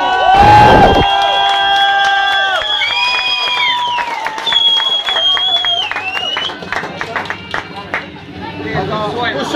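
A crowd at a lively gathering cheers and shouts, with overlapping voices and whoops and some clapping mixed into the loud, continuous din.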